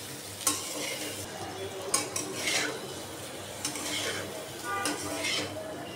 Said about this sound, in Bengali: এখন পেঁপে আমি সুন্দর করে কষিয়ে নেব।